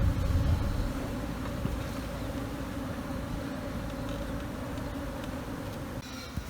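Bees swarm and buzz around a smoked nest as they rob freshly removed wax, a dense, continuous hum at moderate distance with no voices.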